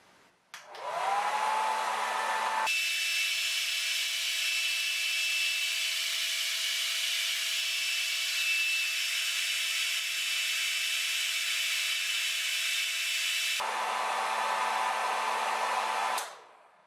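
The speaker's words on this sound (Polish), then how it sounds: "No i cóż, załączam suszarkę." Hair dryer switched on during an overcurrent circuit breaker test: a loud, steady whirring blow that runs continuously for about fifteen seconds, with a shift in tone partway through, before winding down as power cuts off.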